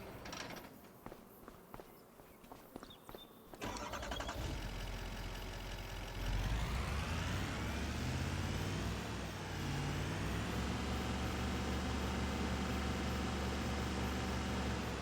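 A truck engine starts up in the Farming Simulator 25 video game, cranking over after a few footsteps and then settling into a steady loud idle that holds to the end.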